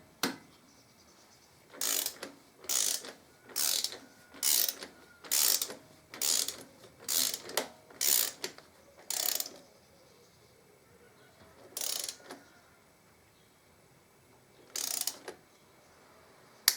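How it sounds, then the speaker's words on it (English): Torque wrench fitted with an extension, ratcheting bolts tight on a trike, heard as a series of close, crisp ratchet bursts in a fairly regular rhythm followed by a few spaced-out final clicks in a quiet workshop. "have to use an extension for this and use the torque wrench"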